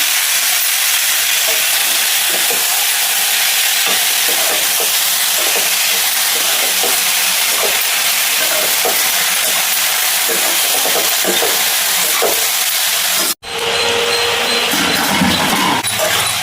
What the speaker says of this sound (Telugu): టమాటా, పచ్చిమిర్చి, ఆనియన్ కూడా మంచిగా ఆయిల్లో ఫ్రై అయినాయి.